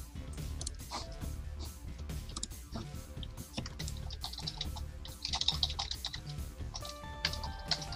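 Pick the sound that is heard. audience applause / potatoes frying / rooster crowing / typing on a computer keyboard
typing on a computer keyboard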